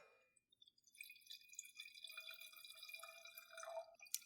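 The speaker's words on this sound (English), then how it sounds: "So I'm going to pour us a couple of glasses of this luscious red wine." Red wine poured from a decanter into glasses, a faint liquid trickle and drip building into a steady thin stream that rises in pitch as the glass fills, quiet and close.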